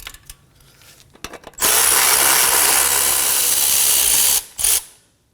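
A power tool with a 17 socket removes a brake caliper bolt on a Kia Sorento, starting with a few short clicks and then giving a loud, close mechanical rattle for about three seconds that ends in a brief final burst.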